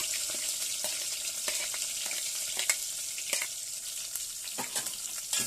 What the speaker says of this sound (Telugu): మునక్కాయలు ఫ్రై అవుతున్నాయి కదండి.